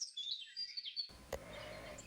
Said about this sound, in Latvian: Putni dzied.